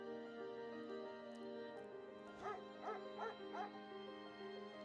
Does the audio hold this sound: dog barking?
yes